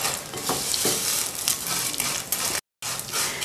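Coloured vermicelli is fried and stirred in a pan, giving a continuous close sizzle with scraping stir strokes and a brief gap near the end.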